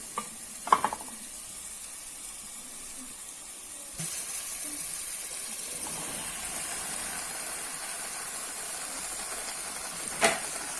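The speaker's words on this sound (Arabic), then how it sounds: "هحط عليها الكوسة منضفينها طبعا، غسلينها ومقطعينها ومنضفينها كده" Chopped, washed zucchini tipped into a pot of simmering meat sauce, producing a faint steady hiss and bubbling with a few soft clunks and stirring knocks, a louder clatter near the end, no talking.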